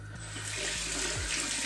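A tap runs water to rinse a Feather AS D2 safety razor, a steady close gushing stream into a sink with no voices over it.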